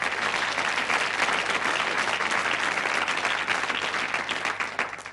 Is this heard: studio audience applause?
yes